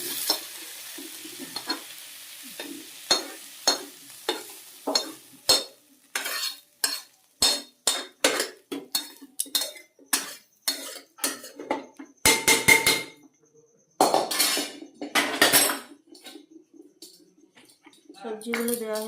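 Vegetables being stirred and tossed in a pressure cooker while making daliya, heard as a rapid series of loud, close scraping and clattering strokes with some sizzle, one after another for most of the stretch.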